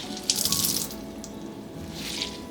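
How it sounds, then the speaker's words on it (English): Close-up splashing and trickling water, with wet drips and gushes as cooked bean sprouts are squeezed out over a sink. "So I will just squeeze the water."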